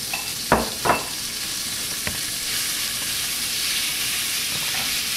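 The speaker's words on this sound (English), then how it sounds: "to go ahead and fry up our snow goose in" Snow goose meat fries in a pan with a constant crackling sizzle, broken early by a couple of louder bursts as pieces hit the hot oil, then settling into an even hiss.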